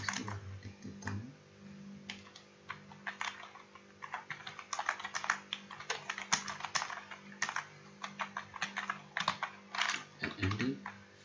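Steady typing on a computer keyboard while writing code, with rapid, irregular clusters of close key clicks running throughout and a faint low hum underneath, no talking.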